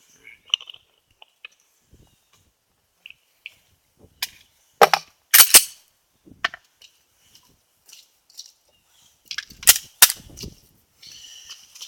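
Ruger SR 9mm pistol firing Inceptor ARX rounds through two barrels, two sharp loud shots a few seconds apart, each trailed by short clatter, with scattered small clicks and handling noises between.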